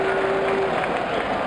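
Dense crowd cheering and applause from a cricket video game, Sachin Saga Pro Cricket, a steady broad roar filling the whole moment with no talk over it.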